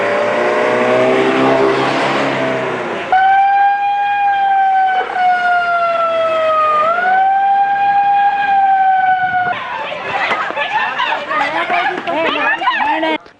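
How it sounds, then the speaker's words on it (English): An ambulance siren wails as the vehicles leave the grounds of Mahara prison, loud and close with a steady tone that rises and falls. Street noise and engine sound surround it. "A few ambulances were seen leaving the premises of the Mahara prison."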